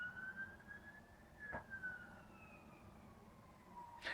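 An ambulance siren wails steadily in a long falling-and-rising sweep, heard at moderate distance over constant low traffic rumble, with a sharper burst near the end.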